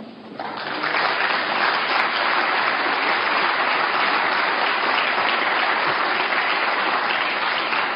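Applause in the National Assembly chamber, a loud, sustained burst of many hands clapping that starts quickly and stays steady throughout.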